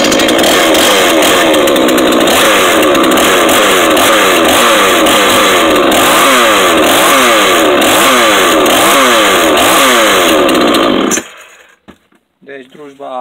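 A Chinese 5200 chainsaw engine starts and runs loudly for about eleven seconds, its revs rising and falling in a rhythmic buzz before it cuts off abruptly, leaving near silence broken by small clicks.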